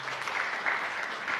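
Church congregation applauding together, a dense, steady clatter of many hands throughout the short burst with no voices over it.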